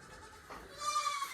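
A goat on a farm gives a single short, faint bleat near the end of a quiet moment.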